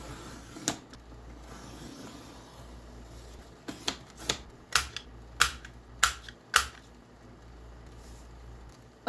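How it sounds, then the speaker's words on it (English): Paper bookmarks being cut, with a series of sharp, close snipping clicks, sparse at first then coming in a quicker irregular run over a quiet room background. "Let's cut some bookmarks."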